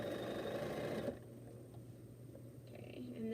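A sewing machine stitches a quilt border to the end at a steady, close hum that cuts out about a second in, then a quieter whir carries on with faint clicks.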